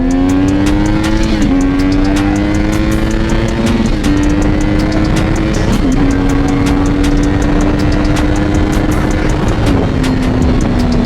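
A motorcycle engine revs hard and climbs in pitch, with brief dips at about two-second intervals as the rider shifts gears. The sound is very loud and close and continues without a break, with no speech.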